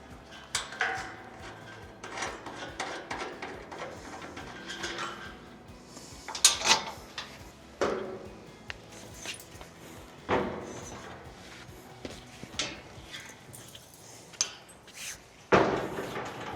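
Wing knobs are removed and a tent trailer is opened, producing scattered clunks, knocks and rattles of metal and hardware at close range, with quiet gaps between.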